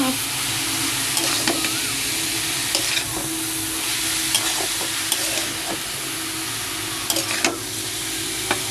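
Cabbage cooks with prawns in a pan over medium heat, frying with a steady close sizzle while a spatula stirs and scrapes, producing scattered clicks and taps throughout.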